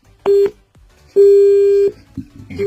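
Two steady electronic phone tones after a call is hung up, a short one then a longer held one, loud and close, with faint background murmur between them.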